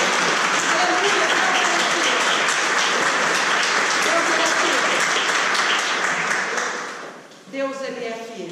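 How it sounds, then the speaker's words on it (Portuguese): A congregation applauding during a Wednesday in-person church service, loud dense clapping that holds steady for about seven seconds before fading, followed by a voice speaking. "Levanta em nome de Jesus e aplauda Ele nessa noite."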